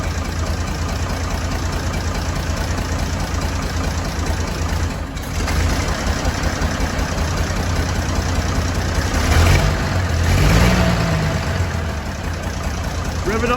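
An old tractor engine chugs steadily after a cold start, loud and close with a continuous low rumble and a slight swell in the middle, while voices talk faintly over it.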